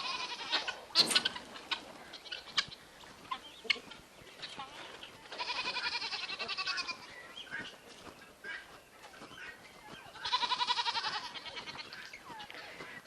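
Goats bleat on a farm pasture in repeated drawn-out calls that rise out of a busy background of other livestock and bird noise, some loud and near, with bursts of several animals calling together.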